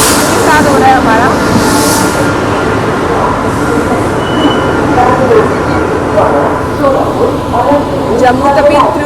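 A passenger train running alongside on a parallel track in India: loud continuous rumble and rattle of wheels with occasional squeals and clicks, close by, with a voice talking over it.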